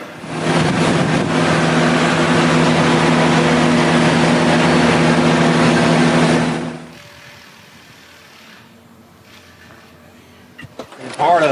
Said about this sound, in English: put the unit in drive, and then slowly pull out from under the trailer until you are completely disconnected